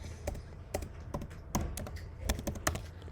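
Code is typed on a computer keyboard for a beginner Python turtle program, giving a close, irregular series of crisp key taps with short pauses between small bursts.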